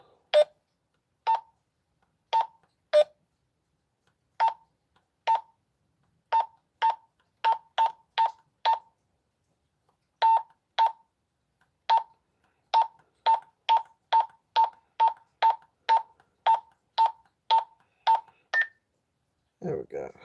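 Short electronic beeps sound from a walkie-talkie as its channel is changed, coming singly and in quick runs with brief pauses, clear against a quiet background.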